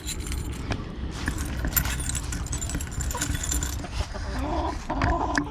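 Keys jangle in a handful close by at an animal run, with repeated metallic chinking throughout over a busy, noisy background.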